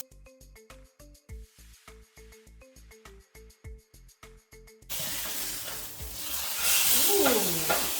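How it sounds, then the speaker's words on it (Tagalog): Sea bream frying in an electric skillet: rhythmic clinks and taps of a turner over a light hum, then a loud, steady sizzle and hiss once the fish is flipped, building in intensity to the end. "So we're gonna flip the fish into the other side using our turner."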